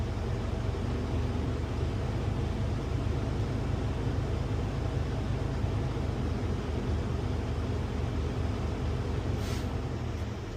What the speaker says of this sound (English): I'll rev the engine a little bit to reach governor cutout.